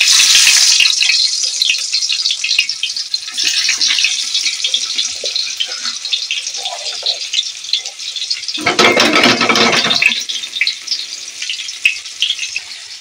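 Onions and spices frying in ghee for a biryani give a steady, close sizzle, with a louder burst of stirring and scraping in the pan partway through and no talk.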